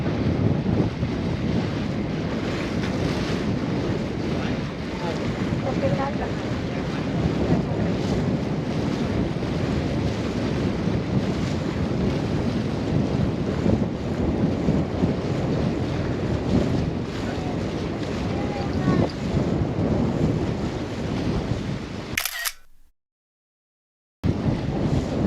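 A river cruise boat moves along the river in Porto, giving a loud, steady roar of wind buffeting the microphone over rushing water that runs without a break and then cuts out briefly near the end.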